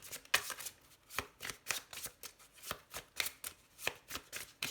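Tarot cards shuffled in a steady run of crisp riffling bursts, about a dozen quick papery ruffles close to the microphone, with no voice over them.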